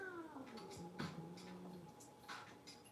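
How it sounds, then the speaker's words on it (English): A house cat meows several times nearby, drawn-out wavering cries with a couple of sharper yowls, over a quiet room with faint background music. "I don't know if you could hear my cat just now."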